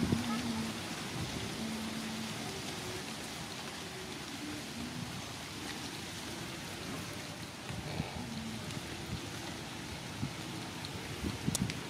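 Rain falls steadily outdoors among trees, a faint, even patter and hiss that continues for about twelve seconds with a low hum underneath.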